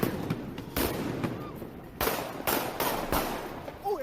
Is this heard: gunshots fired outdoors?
yes